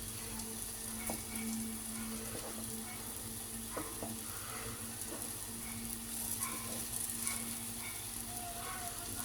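Halved boiled eggs frying in oil in a pan, coated with Kashmiri chilli powder and being turned over, give off a steady close sizzle and crackle with faint utensil clicks throughout.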